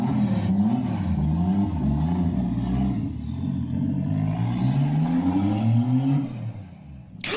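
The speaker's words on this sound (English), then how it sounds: "God, listen to that turbo." A Porsche with a turbocharged engine revs loudly and close by, its pitch climbing and falling in repeated swells of throttle over a steady rumble, ending with a sharp burst at the very end.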